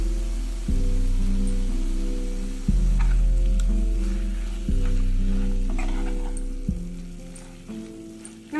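Ingredients for chicken curry, including green chillies and seeds, sizzle and fry steadily in a pan, a continuous hiss broken by a few louder bursts as more goes in or is stirred, with no talking.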